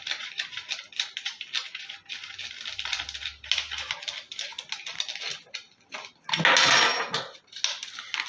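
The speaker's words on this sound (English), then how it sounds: "So we are going to open these screws." Pre-fitted screws are being unscrewed from an office chair seat, producing close, light metallic clicks and ticks in quick irregular bursts, with one louder rattling clatter near the end.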